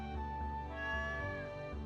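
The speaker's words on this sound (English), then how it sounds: "Oh, looks like we got our kitty cat." A stray cat meows in the farming video game Stardew Valley, a drawn-out tonal cry over a soft looping background music bed, with no voices during it.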